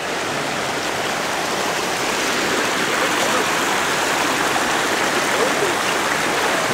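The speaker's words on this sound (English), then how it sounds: "Water coming down." Water pours down over giant rocks at a creek, a loud, steady broadband rush that stays constant throughout, close by, with no talk over it.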